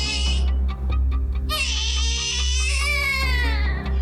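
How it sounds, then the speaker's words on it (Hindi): A small child cries in a string of high, wavering wails over a steady low hum, rising to a louder, drawn-out cry midway and continuing without pause. "पड़ोसियों ने एक छोटे बच्चे की रोने की आवाज"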